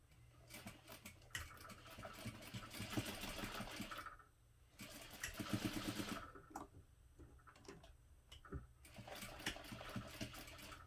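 A home sewing machine stitches across a clutch strap and back stitches, with several bursts of rapid, rattling needle motion separated by brief pauses, close but fairly quiet, and no talking.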